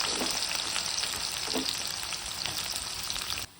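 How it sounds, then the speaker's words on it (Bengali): Onions and dried red chillies sizzle and crackle steadily in a hot pan, a dense frying hiss with occasional stirring scrapes, ending abruptly. "পেঁয়াজগুলো ভাজা হয়ে গেছে"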